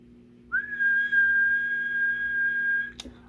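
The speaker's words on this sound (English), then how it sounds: "let me give it a whistle just to see." A person whistles into the microphone of a Retevis Ailunce HS4 10-meter CB radio, one long steady high pitched tone held for over two seconds, clear and close over a faint background hum, ending with a short click.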